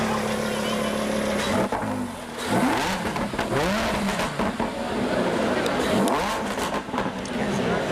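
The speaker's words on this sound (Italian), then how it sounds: "come la Lamborghini che ha fatto sentire il suo rombante motore" A Lamborghini sports car engine revs hard several times, rising and falling whines over a deep rumble, with voices and crowd noise around it.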